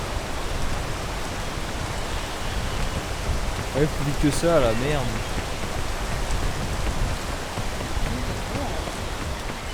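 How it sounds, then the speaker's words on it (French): Steady rain falls in the video game PEAK, a constant hiss that fills the whole clip while someone briefly talks over it in the middle. "Attends, il pleut."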